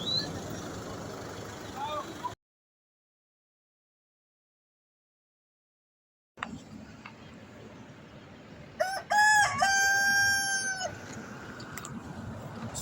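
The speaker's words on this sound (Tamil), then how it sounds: "சோம்பேறி கோழி" A rooster crows in the morning along the Narmada Parikrama route between Gamkuva and Karzan, a loud close call with drawn-out rising notes in the later part, set against rural background noise after a stretch of silence.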